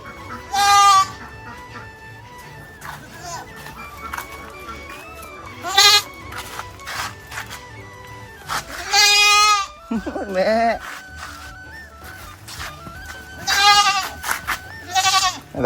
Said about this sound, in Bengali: আর ছাগলগুলো রয়েছে এই পাশে